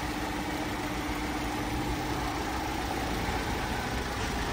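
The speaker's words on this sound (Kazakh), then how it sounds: "Азыр учурда машина от алып турат." A 2019 Kia Optima engine idles steadily and evenly, a close, constant hum with no other sounds.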